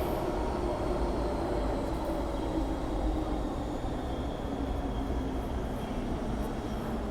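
Inside a Hong Kong MTR M-train, a steady, loud rumble of wheels and motors fills the car without a break, with a faint high whine running above it.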